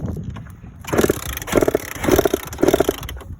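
A two-stroke dirt bike is kicked over repeatedly, giving four rough, loud bursts of sputtering engine noise about half a second apart that fail to catch and settle.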